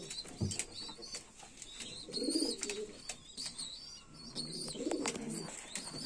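Pigeons cooing on a small pigeon farm, a few soft rolling coos rising in two or three bursts with faint chirps and light rustling, fairly quiet and close.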